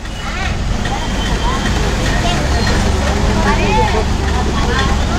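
Kotturulanka bus departing from Kolluru: a steady, loud engine and road rumble fills the scene throughout, with chatter and horn-like tonal bursts layered over it as the bus pulls away.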